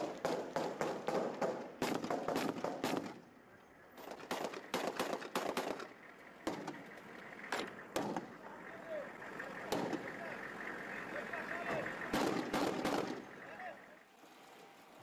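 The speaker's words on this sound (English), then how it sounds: "ISIS was still firing mortars as the troops moved in" Mortar fire strikes during a military push into Mosul: dense bursts of sharp cracks and thumps come in clusters and fade between volleys, set against distant rumble and faint voices.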